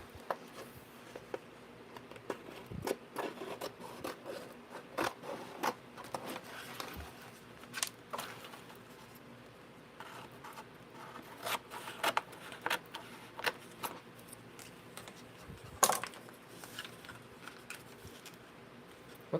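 Material being cut by hand with scissors or a blade during RC car work, giving sparse, quiet snipping and scraping clicks at irregular intervals with no voices.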